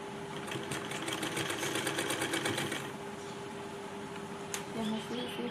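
A sewing machine stitching a frilled sleeve runs in a fast, quiet rattling burst for about three seconds, then stops with faint handling sounds and a soft voice.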